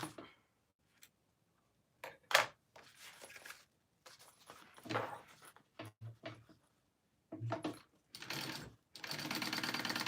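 A home sewing machine runs a basting stitch in several short bursts separated by pauses, ending in a longer steady run of rapid mechanical stitching close by.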